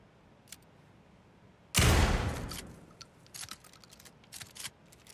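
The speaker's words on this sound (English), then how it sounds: "My trusty 12 gauge, fully automatic. Extreme circumstances call for extreme shotguns." A single heavy, booming blast from a fully automatic 12 gauge shotgun in Alan Wake 2, loud and close with a decaying tail, followed by faint scattered clicks and ticks.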